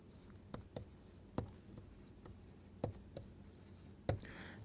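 Handwriting a formula during a lecture, a handful of sharp, faint taps and scratches spaced irregularly, like pen or chalk strokes on a quiet background.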